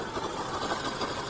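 A Yamaha SZ motorcycle engine that burns oil and has a noisy timing chain runs at a steady idle, with a dense, even mechanical rattle and hum close to the microphone.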